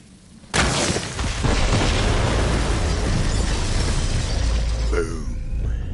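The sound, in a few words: explosion of set bombs in the video game Borderlands 3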